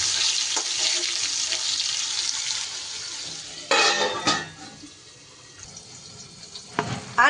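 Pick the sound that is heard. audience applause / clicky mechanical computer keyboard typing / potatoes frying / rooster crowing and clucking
potatoes frying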